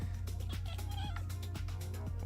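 A cat in the Minecraft video game meowing repeatedly in odd, drawn-out cries, several calls in quick succession over a steady low in-game hum, loud and clear.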